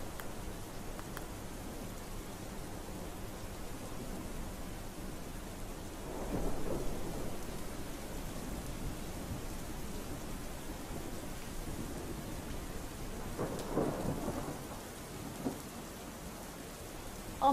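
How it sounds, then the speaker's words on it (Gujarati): Sudden rain falls steadily in Amreli, Gujarat, as a soft, even wash of noise. Two low thunder rumbles swell up from it, one at about a third of the way in and another later, with no voices. "સવારથી અચાનક વાતાવરણમાં પલટો આવતા વરસાદ વરસ્યો, જેથી વાતાવરણમાં ઠંડક જોવા મળી."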